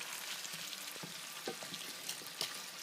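Shrimp frying in a pan: a soft, continuous sizzle and crackle with small pops and stirring scrapes, heard close but quietly.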